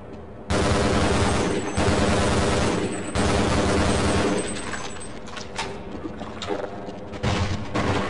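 Rapid, loud weapon fire from Half-Life, with sustained bursts of shots separated by brief pauses, close and harsh, fading into scattered echoing impacts toward the end.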